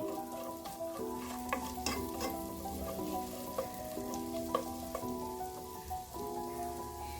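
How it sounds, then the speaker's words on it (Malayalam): Ingredients for chicken soup sauté in a pan, giving a steady soft sizzle with frequent stirring clicks and scrapes throughout, close and fairly quiet, with no talking. "ഒരുപാട് ഫ്രൈ ഒന്നും ആവണ്ട, നന്നായിട്ട് ഒന്ന് വഴന്ന് കിട്ടിയാൽ മതി."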